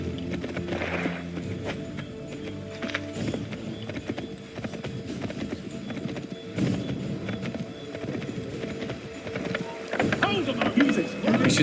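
Horse hooves clip-clopping at speed as Connor rides in Assassin's Creed 3, a steady rhythmic patter mixed with game ambience and music, with a character's voice talking over the ride.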